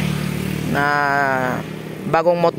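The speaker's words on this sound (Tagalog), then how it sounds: "gamit natin yung motor, bagong motor" A new motorcycle's engine runs in a mountain area, a steady harmonic drone that swells and is joined late by a brief, sharper rev, with a voice talking faintly underneath.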